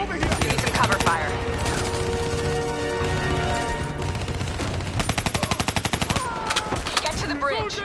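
Dense automatic gunfire fills a Call of Duty Black Ops III firefight as cover fire, with rapid rattling bursts and shouted voices and music running throughout.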